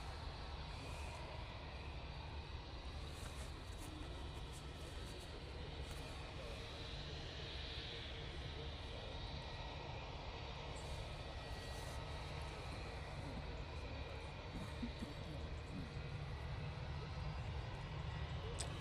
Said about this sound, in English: Eurowings to Hamburg, if memory serves me right, is coming down in front